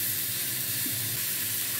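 Beetroot frying with garlic, turmeric and salt as everything is mixed together in the pan, an even close hiss of sizzling oil with faint stirring underneath, no voices.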